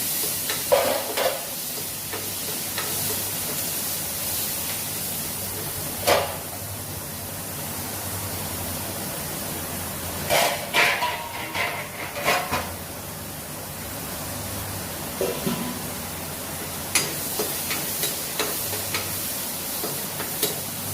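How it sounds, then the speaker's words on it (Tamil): Shallots and curry leaves frying in oil in a pan for a fish kulambu, a steady soft sizzle with occasional stirring scrapes and clinks, heard close and alone without speech. "சாம்பார் வெங்காயம் கொஞ்சம் கருவேப்பில இது நல்லா ரோஸ்ட் ஆகட்டும்"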